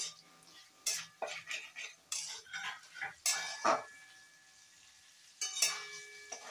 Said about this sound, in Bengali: পনিরটাকে ভালোভাবে কষিয়ে নিচ্ছি।